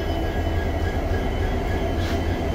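An ALCO diesel locomotive shunting at Haldibari, a steady close rumble of engine and rolling railcars with faint wheel squeal, continuous over a short stretch.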